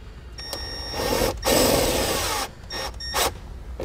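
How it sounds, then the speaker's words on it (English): Power drill driving a Phillips screw through a trailer brake controller bracket in a 2017 Ford Escape, loud whirring bursts that start, stop briefly, then resume in short pulses. "I'm gonna take a screwdriver or drill"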